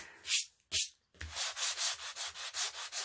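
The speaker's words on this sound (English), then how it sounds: "It's just a lot of repetition and a lot of back and forth in order for it to just kind of scrape away" Rhythmic back-and-forth rubbing as chalk paint is scraped off a surface, a few separate strokes followed by a steady run of even, rasping passes, close and unaccompanied by talk.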